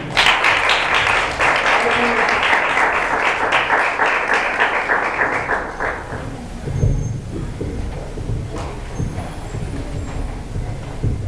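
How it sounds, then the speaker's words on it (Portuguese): A church congregation applauds during a Portuguese-language service, a loud sustained burst of clapping that fades out after about six seconds, then gives way to a voice and room noise. "As palmas louvam o Senhor."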